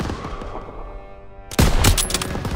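Machine gun fire in the World War II shooter Call of Duty WW2 bursts out loud and close after a quieter stretch of battle rumble, a dense rattling volley lasting about a second before trailing off.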